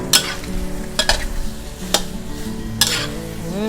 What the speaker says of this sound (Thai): คลุกเคล้าให้เข้ากันแบบนี้นะคะ